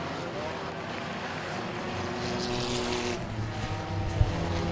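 Race cars roar around Langley Speedway as an enduro race reaches the checkered flag, a steady wash of engine noise with one short thump near the end.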